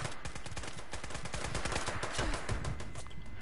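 Rapid gunfire in the online shooter game Fallout 76, a dense continuous burst of shots running the whole time, loud and steady, with no voices over it.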